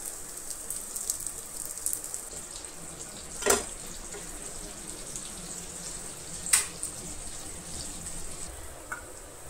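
Rava onion bhakri fries in oil on a pan, giving a faint, steady sizzle broken by two brief sharp clicks and a small pop near the end.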